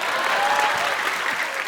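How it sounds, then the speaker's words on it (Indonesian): Audience at a stand-up comedy show applauds in a dense, steady burst of clapping that fills the whole moment, loud and close with no talking over it. "Tepuk tangan buat Bagio."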